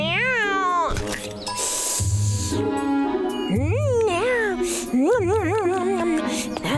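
Cartoon cat meowing repeatedly in a Boonie Bears animated comedy, several bright, bending meows close up with a faint jingle underneath and no talk.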